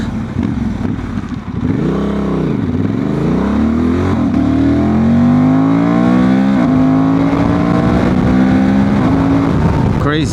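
Remapped Honda Transalp 750 motorcycle accelerates hard through the gears, engine note climbing in loud, sustained pulls with brief dips at each shift, close and continuous throughout.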